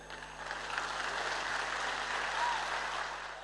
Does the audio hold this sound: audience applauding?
yes